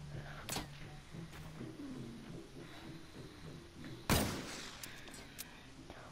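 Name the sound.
gunfire in a video game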